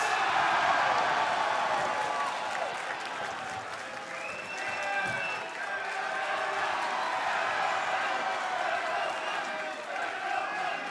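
Wrestling crowd at an MLW pro wrestling show roars and applauds continuously, loud sustained cheering and clapping with whoops rising through the noise, a commentator's voice partly audible underneath.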